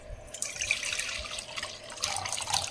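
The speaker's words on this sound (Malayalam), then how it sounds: "നമുക്ക് വെള്ളം ഒഴിക്കാം." Water is poured into freshly squeezed light-orange lemon juice, a soft, close, steady trickle and splash lasting a few seconds.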